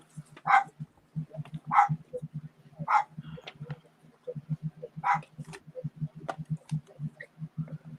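A dog barks repeatedly in sharp, loud bursts, some higher and yappy, over a steady low murmur of people talking at a craft session where altered books are being made.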